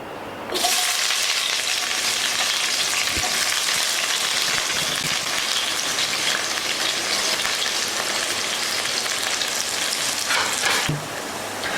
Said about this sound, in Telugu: నెయ్యి వేడెక్కింది, అందులో పచ్చి ఉల్లిపాయలను వేసి వేపుకుందాం.